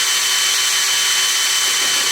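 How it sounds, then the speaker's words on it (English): Power drill running steadily while mounting a wig wall, a continuous close, loud whirring drone with no pauses. "They said on the drill, don't try to hold it while you drill."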